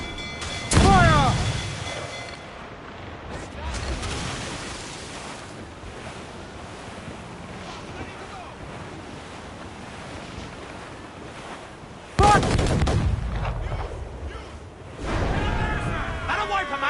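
Ship cannons boom from a sailing warship in an Assassin's Creed 4: Black Flag naval battle with an English schooner: loud broadband blasts, one near the start, another around four seconds and two more late, over steady wind and surf.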